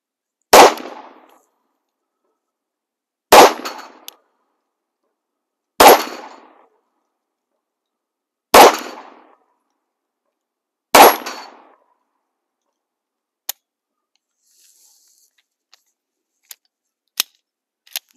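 Five loud, sharp pistol shots from a Yugo M-57 at a shooting range, spaced roughly every two to three seconds with short echoing decays, followed by faint metallic clicks and handling sounds.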